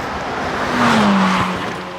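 A Lotus Esprit corners hard on a dry race track, tires squealing in a drawn-out skid over a loud, steady engine roar, with no voices.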